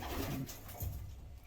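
A pigeon gives a brief, soft, low coo, close by.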